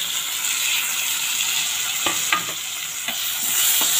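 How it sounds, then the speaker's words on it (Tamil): Chopped tomato, ginger garlic paste and green chili sizzle loudly and steadily in a hot pan while a spoon stirs them, with a few distinct scraping strokes near the end. "இப்போ நம்ம கட் பண்ணி வச்சுருக்கிற டொமேட்டோ, இஞ்சி பூண்டு பேஸ்ட்டு, அப்புறம் பச்சை மிளகாய் இதை சேர்த்து நல்லா வதக்கிக்கலாங்க."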